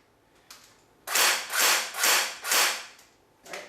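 Semi-auto shots from a Tokyo Marui MP5K PDW airsoft gun: after a faint click, four crisp, evenly spaced shots ring out close by, each with a mechanical snap, then one more shot after a pause.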